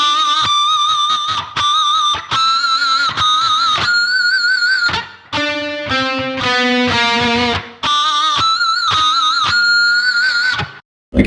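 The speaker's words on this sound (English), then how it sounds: "With the pinch harmonic, it's going to sound like this." A distorted electric guitar plays a series of pinch harmonics, giving bright, squealing overtones. Loud picked notes follow one another in quick succession with short gaps, some sliding in pitch.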